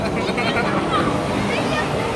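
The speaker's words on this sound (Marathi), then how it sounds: "फुल क्राऊड जमलंय फुल क्राऊड" Crowd babble from a large audience gathered at the Dragon Bridge fire and water show in Da Nang, Vietnam, at night: a continuous dense murmur of many voices with a faint wash of water or surf beneath.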